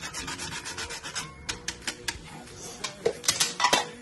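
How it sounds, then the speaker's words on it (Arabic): Zucchini being grated for a baked kefta and béchamel dish, a soft repeated rasping that starts faint and rhythmic, then turns into sharper scraping strokes and light metallic clinks near the end. "كنحكو الكوزه كتعطي مذاق مزيان الصراحه"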